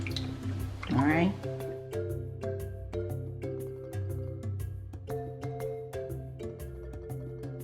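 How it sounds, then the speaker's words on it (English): Water is added to corn dough while cooking Ghanaian kenkey, with a brief pour followed by a run of small, irregular drips and splashes while a person talks over it. "so I'm adding water into it because I find it a bit hard. I'm adding about half a cup of water into it."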